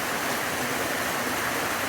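Heavy rain pours down outdoors as a dense, even roar of broadband noise, steady and fairly close with no voices over it.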